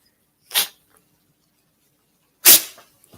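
Two sharp, close sneezes sound about two seconds apart in an otherwise quiet room, the second louder with a short trailing breath.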